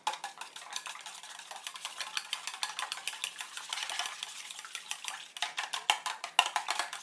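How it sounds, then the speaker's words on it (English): Chopsticks whisk beaten eggs in a bowl for Singapore noodles, a quick, steady run of light clicking taps against the sides that grows brisker and sharper toward the end, close and fairly quiet. "give it a good whisk"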